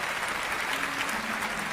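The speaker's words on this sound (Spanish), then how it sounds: "Den el mayor aplauso de la historia." A church congregation applauds during a sermon with dense, steady clapping that fills the whole short stretch at an even level.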